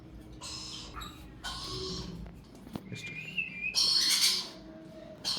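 Grey parrot calls: bursts of squawks and chirps with a rising whistle, loud and close, broken by short pauses.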